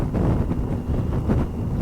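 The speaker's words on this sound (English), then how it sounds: "It's very windy." Strong wind blows hard across the microphone outdoors in the English countryside near Ely, a steady roaring rumble with gusty swells that fills the whole stretch, with no talking.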